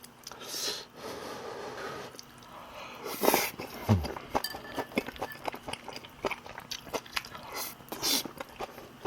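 Someone chews and bites food up close, producing soft, wet crunches and smacks in an irregular rhythm, fairly quiet, with a brief murmur in between.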